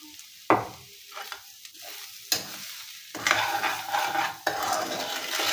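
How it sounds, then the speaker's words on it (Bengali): Fried coconut and sugar are stirred in a pan: a few scraping strokes against the metal, then a denser, continuous sizzling scrape of stirring, close and moderately loud. "চিনি দেওয়ার পর নারকেলগুলো একটু ভালোভাবে নেড়ে চেড়ে মিশিয়ে নিতে হবে"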